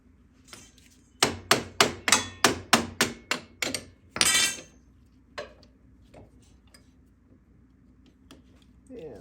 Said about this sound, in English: hammer those off